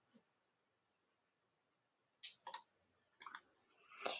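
A few soft mouse clicks, two close together and then two more, land on a Start button in near silence.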